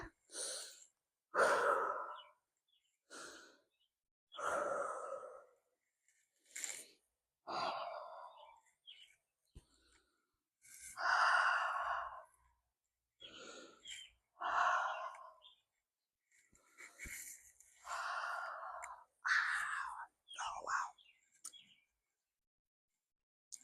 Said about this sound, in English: So, hands up and breathe.